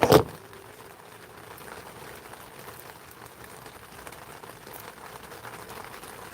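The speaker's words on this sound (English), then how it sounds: "The rain sounds so good." Steady rain patters softly and continuously on a surface, preceded by a short sharp knock at the very start.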